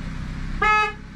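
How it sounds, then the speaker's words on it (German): A single Opel Corsa horn toot, short and clear, sounding for about a third of a second over a low engine-like background. "Hupe geht."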